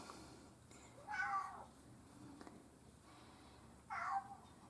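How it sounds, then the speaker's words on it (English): A pet cat meows twice indoors, two short separate cries a few seconds apart, soft and somewhat distant against quiet room tone. "And there's my kitty in the background."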